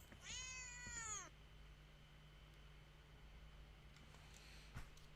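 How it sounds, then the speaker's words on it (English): A single drawn-out video game cat meow rises and falls near the start, then only a quiet steady hiss remains with a faint click later. "I heard the meow of the cat walking on the fence beyond the small window."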